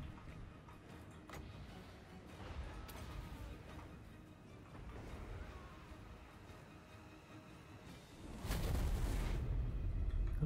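Death globe explosions in Total War: Warhammer 2 batter a battlefield with repeated booming blasts, the heaviest burst near the end over a steady rumbling din.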